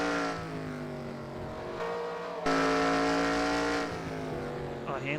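Race cars in a sim racing video game roar continuously, engine notes rising and dropping through shifts near turn three, with race commentary running over the engine sound.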